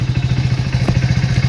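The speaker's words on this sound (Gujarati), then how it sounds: "બાઇક ચાલુ કરી નાખ બરાબર" A motorcycle engine runs at a steady, close idle, giving a fast, even thumping throb with some light mechanical clatter and no pause throughout.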